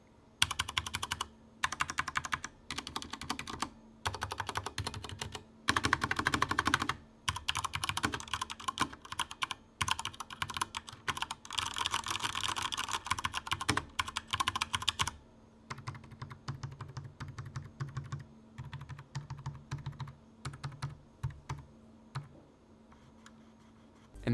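Typing on a Corsair K70 TKL keyboard with Cherry Speed Silver linear switches: rapid, close clacking keystrokes in bursts with short pauses, then a quieter, sparser stretch of taps toward the end.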